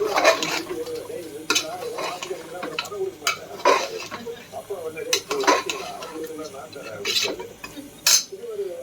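A spoon scrapes and clinks against a pan as spices for mutton kulambu are stirred and tossed, sounding as irregular close scrapes and knocks over a low sizzle, with some talk in the background.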